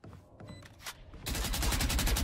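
Wall bang gunfire in the shooter game Valorant during a collegiate esports match: a quiet stretch, then a loud, sustained burst of rapid shots that fills the second half.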